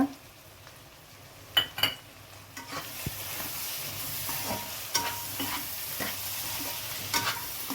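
Mutton keema garlic curry sizzles in a pan while a utensil stirs and scrapes through it, with a few sharp clinks early on and a steady frying hiss building underneath, close up and with no talking.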